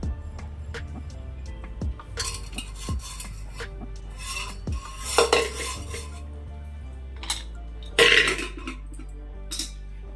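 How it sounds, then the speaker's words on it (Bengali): A spoon works through boiled red sweet potato in a dish, giving scraping, rubbing and clinking against the bowl, with a few sharper knocks near the end. "এবারে আমি আলুটা ম্যাশ করে নেব এখন গরম আছে সবগুলো চামচ দিয়ে আস্তে আস্তে আমি ম্যাশ করে নিয়েছি"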